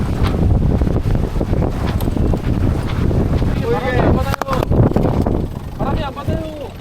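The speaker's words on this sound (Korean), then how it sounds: "지금 엔진 없이 순수 바람의 힘으로만 7에서 8노트로 항해를 하고" A sailboat moving under sail alone with the engine off, making a steady rush of wind buffeting the microphone and the swash of water against the hull, with voices and a few high shouts over it.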